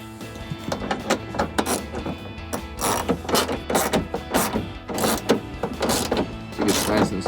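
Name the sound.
ratchet tightening headlight bolt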